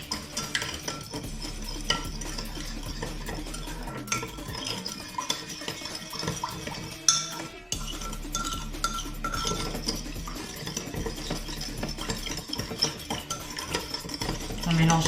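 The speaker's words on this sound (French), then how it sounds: "On mélange bien histoire que le sucre fonde un petit peu." Spoon stirring sugar into sushi rice seasoning in a bowl, a steady scraping and clinking rhythm that runs throughout at moderate loudness, close by.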